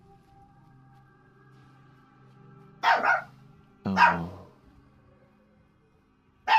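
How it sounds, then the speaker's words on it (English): Dog barking in the video game Fallout 4, a few separated barks, close and fairly loud over quiet game ambience and a low hum, with a brief spoken exclamation. "You can probably hear the dog again."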